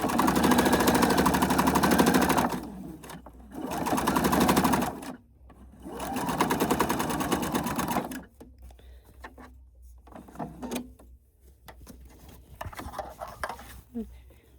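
A sewing machine stitches along a fabric edge in three loud, close bursts of rapid mechanical clatter separated by short pauses, followed by quieter handling sounds and faint talk.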